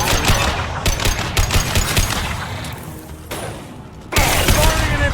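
Rapid gunfire in the Mass Effect 2 video game, dense bursts of automatic shots with crackling impacts, a brief lull, then a renewed loud barrage, all close and mixed with battle effects.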